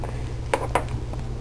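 Cooked potatoes for pierogi filling being stirred in a pot, two sharp metallic clinks of a utensil against the pot over a low background hum.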